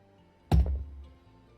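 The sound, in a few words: heavy metal dice landing with a thud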